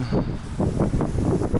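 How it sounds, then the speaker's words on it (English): Steady rumbling road traffic with swelling low whooshes of passing vehicles, continuous and fairly close, no voices. "Sorry about the traffic noise"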